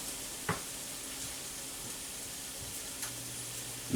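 Pork and onions fry in a pan with a steady, even sizzle throughout, broken by a couple of faint clicks; no voices.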